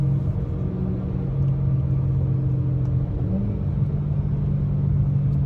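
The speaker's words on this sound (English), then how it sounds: "Supercharger noise." A supercharged BMW M3 engine holds a steady, loud drone from inside the car, with a sustained whine layered over the deep engine rumble and no voices.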